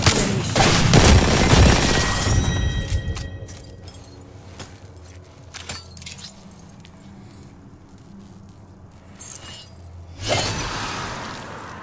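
Gunfire in the Apex Legends video game: a loud, dense burst of shots at the start, a few scattered sharp cracks in the quieter middle, then another burst near the end.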